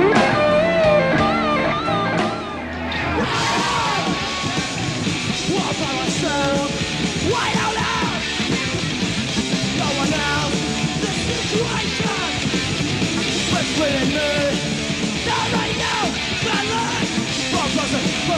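A rock song plays at loud, steady volume with a full band and a screaming vocal running across it, after a brief quieter dip near the start.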